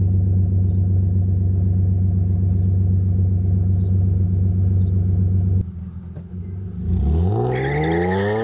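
BMW E36 323ti engine idling with a deep, bassy, steady rumble up close, then a brief dip before it revs up, the pitch climbing sharply as it accelerates.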